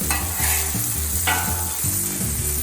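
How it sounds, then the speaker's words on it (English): A hamburger sizzles loudly on a Camp Chef griddle with steady crackling frying, close up, while a spatula stirs and scrapes in several short bursts. "listen to that sizzle"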